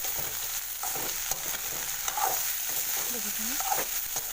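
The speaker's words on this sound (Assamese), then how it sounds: "বেঙেনাখিনি অকণমান জহি যোৱালৈকে ভাজি ল'ম।" Cut eggplant sizzles steadily in a pan while being stirred, with scraping strokes recurring through the frying, close and moderately loud with no talk.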